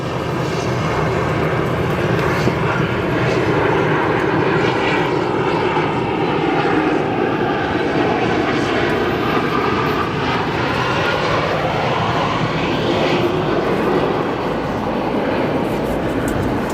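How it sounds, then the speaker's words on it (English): An American Boeing 787 Dreamliner landing at Chicago O'Hare with thrust reversers engaged, a loud, steady jet roar that holds throughout with a faint shifting whine. "Nice heavy arrival there for that 787. Thrust reversers engaged."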